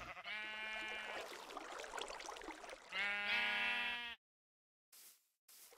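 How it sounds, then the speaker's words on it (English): Sheep in a Minecraft mountain landscape bleat loudly in two long, wavering calls, the second beginning after a brief gap, followed by near silence and two short faint bursts of sound at the end. "there's sheep up here"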